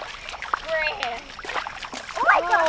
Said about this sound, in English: I wasn't expecting, for some reason, to get splashed